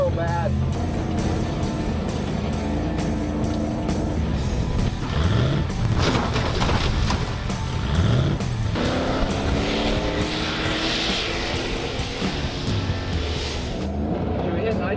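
Nitrous-equipped Chevy squarebody truck with an engine burning oil, driven hard with a loud continuous droning roar and rising revs throughout, heard from close by with people talking over it.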